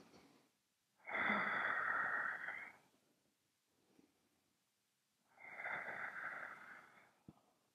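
Two long breaths in during a Pilates exercise, each a clear, close, airy rush lasting about two seconds, separated by a quiet gap with no talking.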